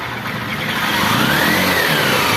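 A Honda Fan 125 motorcycle engine, just repaired, revs steadily and loud for a couple of seconds, a smooth sustained mechanical drone with a rising whine, heard close and alone.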